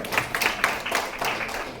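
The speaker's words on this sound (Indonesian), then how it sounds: "tepuk tangan buat kalian semua" An audience at an education session in an office in Kuala Lumpur claps together, a dense, steady patter of many hands that holds close and fairly even throughout, with no voices over it.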